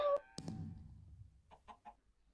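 A chicken in the Minecraft Hypixel Farm Hunt game gives a short electronic squawk, followed by a sharp hit and three quick soft clucks, fairly faint and with no talk.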